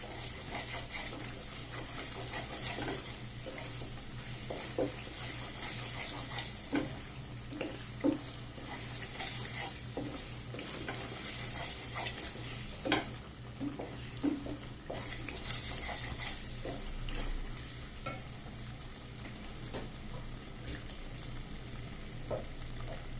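Egg curry masala for a Mughlai egg curry cooks in a pan with a soft, steady sizzle and occasional stirring clicks and scrapes, fairly quiet and up close.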